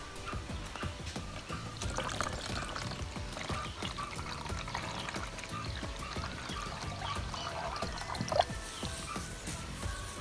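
Lime solution for Bordeaux mixture is poured from a container, about 250 ml, with a steady close trickle and splash running continuously for around ten seconds, no talking.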